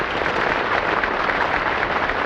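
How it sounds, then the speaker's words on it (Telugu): Dense, steady applause from a crowd gathered at a station opening ceremony, sustained and fairly loud throughout with no voices above it. "చప్పట్లు కొట్టు, ఆపకుండా కొట్టు"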